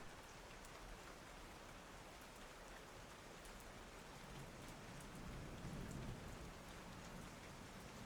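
Light rain falls steadily with a dense, even patter of raindrops, soft and continuous throughout with no voices.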